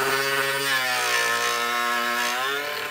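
A Dremel rotary tool cuts a small hole in a plastic Stormtrooper armor knee piece, its high steady whine continuous and close, dipping briefly in pitch under load before recovering.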